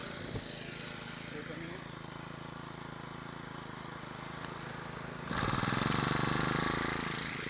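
A Honda brush cutter engine runs steadily, then restarts about two-thirds through and settles into a louder, fuller idle drone, nearby and continuous.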